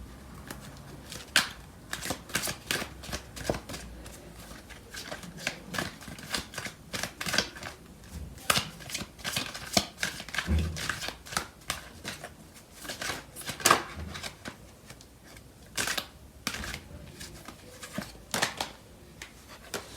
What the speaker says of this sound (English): So I'm going to pull out some cards from the other tarot deck.